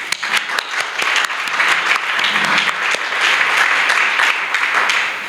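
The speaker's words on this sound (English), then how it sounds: "Beth deserves a big, big round of applause" A room full of people claps steadily, a dense round of applause that holds its strength for several seconds.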